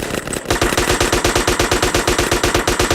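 Rapid automatic gunfire in the video game GTA San Andreas, loud sustained bursts of evenly spaced shots at close range, with no voices over it.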